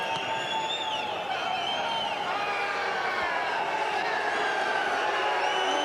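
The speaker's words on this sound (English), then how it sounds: "And the crowd don't like it either, Stuart." Rugby league crowd at a Catalans versus Leigh Super League match, a steady dense roar of voices with scattered whistles and shouts, sustained throughout at moderate level, reacting to a penalty.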